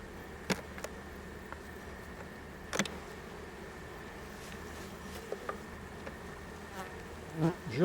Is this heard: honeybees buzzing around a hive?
yes